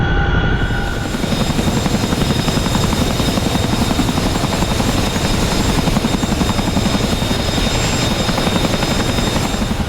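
A CH-47F Chinook twin-rotor heavy-lift helicopter in DCS World throbs with a loud, constant rotor chop and engine roar that stays steady and close throughout, with no talking.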